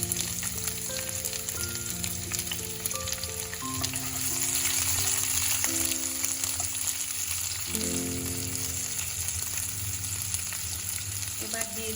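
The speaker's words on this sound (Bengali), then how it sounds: "এবারে এই মাছ ভাজার তেলের মধ্যে আমি দিয়ে দিচ্ছি পেঁয়াজ কুচি।" Chopped onion dropped into hot oil left from frying small mourola fish, giving a steady, dense sizzle that runs unbroken throughout, with sustained tonal notes playing along underneath.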